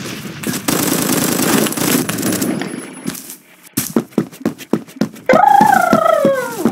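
Gunfire in the video game Phantom Forces: a burst of rapid shots, then a string of sharp single bangs, followed by a wailing howl-like sound.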